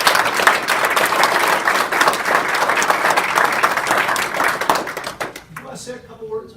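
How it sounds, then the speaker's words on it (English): Round of applause at a school board meeting, dense clapping from a roomful of people that holds steady and then fades out quickly near the end, with a voice faintly heard afterward. "Give those 2 a round of applause."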